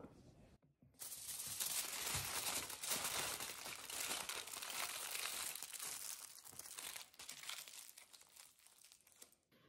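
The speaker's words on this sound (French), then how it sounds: "Papier d'aluminium, puis on va juste venir les enrouler pour faire des patates au four" Aluminium foil crinkles and crumples steadily for several seconds, close and fairly loud, as potatoes are wrapped for baking in a home kitchen; a short quiet pause comes before the continuous rustling.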